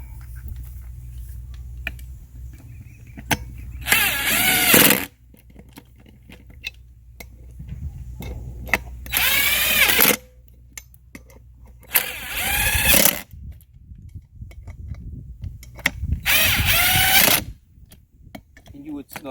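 Wheel lock nuts on a Gator Tracks track kit are snugged with a power tool: four separate loud whirring bursts of a few seconds each, with quieter shop noise and some talk in between.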